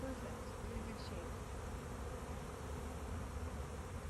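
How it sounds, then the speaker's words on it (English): A swarm of honeybees buzzing all around a beekeeper at an open hive, a dense continuous drone with no breaks, close and steady at a moderate level. "So like we're surrounded in bees right now"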